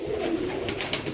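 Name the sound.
pigeons cooing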